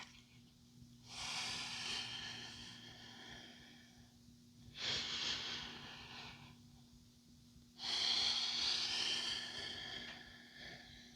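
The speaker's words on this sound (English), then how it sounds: "And we breathe." Slow, deep yoga breaths taken close by, three long airy inhales or exhales in an even rhythm, with quiet pauses between them over a faint steady hum.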